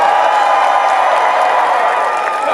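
A live jousting show crowd at the PNE fairground cheers loudly and continuously, a dense wash of shouting, whooping and clapping that fills the whole moment without a break.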